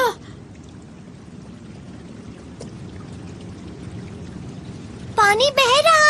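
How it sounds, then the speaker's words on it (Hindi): Water flowing and trickling in an animated Doraemon movie scene set in a ruined Antarctic place, a steady soft pour under the whole stretch, with a child-like voice speaking briefly near the end. "पानी बह रहा है।"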